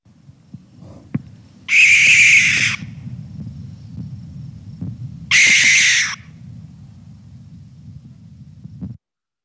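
Two long, harsh hissing screeches of a barn owl, each about a second, over a steady low rumble of background noise.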